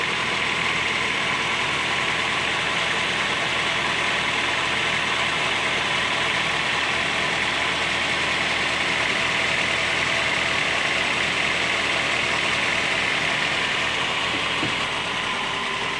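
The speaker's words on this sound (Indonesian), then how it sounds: "di RPM 1200 mesinnya terasa goyang. Ini 1200 ya, bukan di 800, tapi 1200 mesinnya masih goyang juga seperti ini." A rough-running engine in a Toyota/Daihatsu compact MPV such as an Avanza, Xenia or Terios, held at 1200 RPM while shaking. It gives a steady, close, low idle hum with slight unevenness and no talk.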